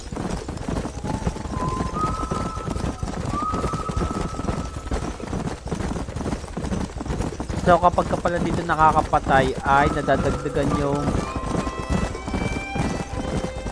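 Horses gallop in a Red Dead Redemption game scene, a rapid rhythmic clip-clop of hooves running throughout, with a whinny and background music, while someone talks over the action.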